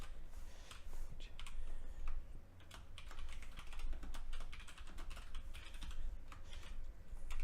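Rapid typing on a computer keyboard while coding an HTML lesson, with a steady run of close, crisp key clicks and occasional bursts of faster strokes, with no talking.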